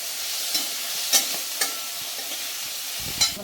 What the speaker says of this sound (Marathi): मक्याचे दाणे परतले का